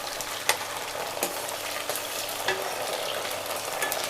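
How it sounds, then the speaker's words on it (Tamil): Garlic and onions sautéing in a pan for a South Indian garlic kulambu gravy, giving a continuous crackling sizzle with a few sharp stirring clicks, close and without speech. "எல்லாமே நல்லா வதக்கி விடுங்க"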